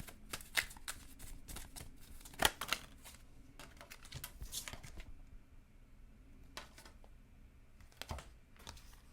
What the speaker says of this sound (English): I'm shuffling them upright.